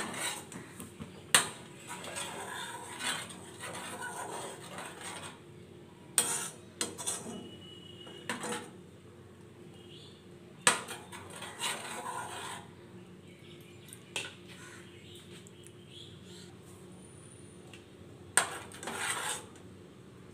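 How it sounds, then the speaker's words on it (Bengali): Homemade ghee simmers in a pot while a spoon stirs and scrapes it, giving repeated close, gritty scraping strokes and occasional metallic knocks against the pot over a quiet background. "বারবার আমি এরকমভাবে নাড়িয়ে দিচ্ছি চামচ দিয়ে"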